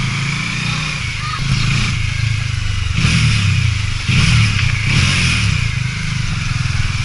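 A Bajaj Dominar 400 motorcycle with an SC Project aftermarket exhaust, dB killer removed, idles roughly and then revs hard several times, each blip rising and falling back to a rumbling idle.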